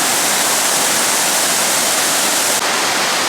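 Fast-moving water of the Salmon River rushing past a landslide area, a loud, steady broadband roar filling the whole clip without pause, close and continuous like whitewater, with no voices over it.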